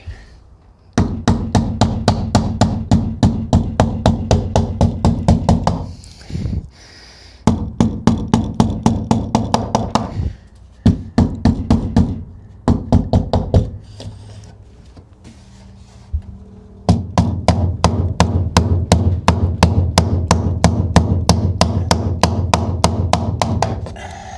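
A mallet pounds in rapid bursts of sharp, loud, evenly spaced blows during a DIY crawler hauler build, with short pauses between runs and a long final stretch of steady hammering, no voices.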